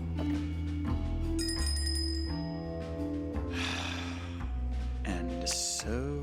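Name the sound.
ladle striking bell in video game Shardlight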